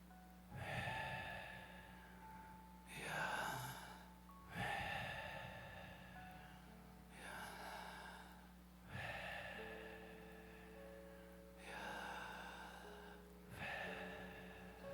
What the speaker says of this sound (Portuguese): Eu estou respirando.